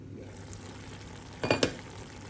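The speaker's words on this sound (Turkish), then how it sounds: "Şöyle güzelce pişmeye yakın bir tur karıştıracağım" Courgette frying in a pot sizzles softly for a moment, then two quick scraping clacks of a spoon stirring it ring out close by.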